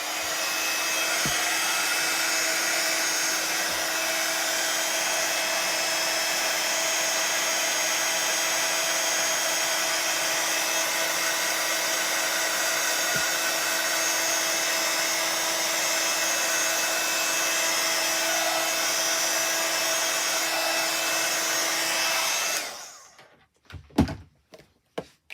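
Hair dryer blowing steadily and loudly for over twenty seconds to dry a wet-stamped card, a continuous close whooshing roar with a few faint taps, then switching off into brief handling clunks.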